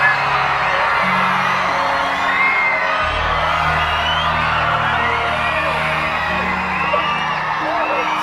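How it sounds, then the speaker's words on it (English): An audience at MINECON 2016 screams, whoops and cheers in a large hall, a sustained loud roar of many voices with yells breaking through across the whole stretch. "Big screams."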